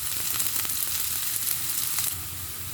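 Onions frying in hot oil in a pan until lightly reddened, a continuous loud close sizzle with faint crackles, easing slightly in level toward the end.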